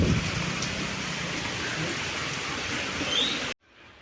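Steady morning rain pouring down outside, a dense close hiss of drops hitting surfaces that holds evenly for a few seconds and then cuts off abruptly.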